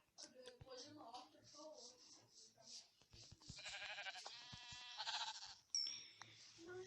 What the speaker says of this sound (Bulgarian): О, там има овце.